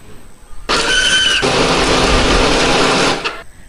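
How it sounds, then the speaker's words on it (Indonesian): A kitchen blender grinds cooking ingredients with added water for a festive Eid dish, a loud steady motor whir that starts abruptly, runs close and alone for about two and a half seconds, then cuts off. "Hari ini aku menghaluskannya pakai blender."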